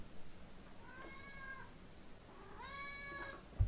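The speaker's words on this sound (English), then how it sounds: "I got a cat at the door" A 15-year-old cat meows twice at a door, faint and somewhat distant over a low background hum, the second call longer and rising.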